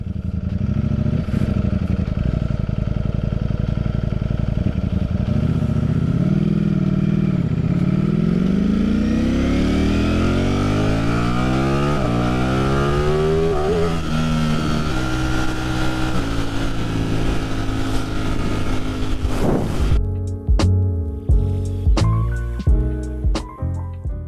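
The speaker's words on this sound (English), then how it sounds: "when the exhaust valve is open with the stock exhaust, they actually sound pretty good" Ducati Streetfighter V4 running its stock exhaust with the valve open, a loud, close V4 engine revving up through rising pitch, then sharp throttle blips and crackles near the end, with no talk.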